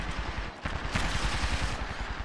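Rapid automatic weapon fire in the battle royale game Apex Legends, a fast even burst of sharp shots close up that runs for about two seconds with brief gaps.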